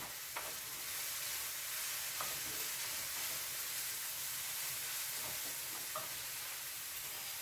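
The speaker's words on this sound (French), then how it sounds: "je remue mes lardons" Lardons sizzle and hiss steadily in a pan for a courgette quiche, with a few faint scrapes and taps of a stirring utensil over the constant frying noise.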